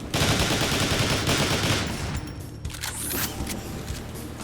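A Neutron Assault Rifle fires in Transformers: War for Cybertron, loud rapid automatic bursts with dense crackling that thin out midway before flaring again with bright metallic effects.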